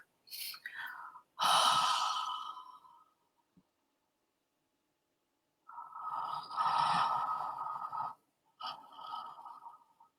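Several people yawn in a group exercise, two long drawn-out breathy yawns with a short one between, close and fairly loud with quiet gaps.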